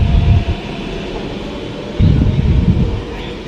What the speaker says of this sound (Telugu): నన్ను అయితే అలా డ్రాప్ చేసేసి ఈ ట్రైన్ అయితే ఇలా బయలుదేరుతుంది